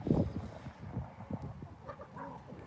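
A flock of chickens in a pen clucks softly and irregularly close by, with scattered low calls over quiet background.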